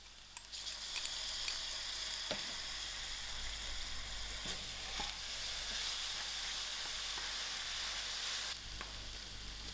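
Ginger and garlic frying with softened onions in a pan for a Sri Lankan coconut chicken curry, a steady close sizzle and hiss throughout with occasional faint stirring taps, no talking.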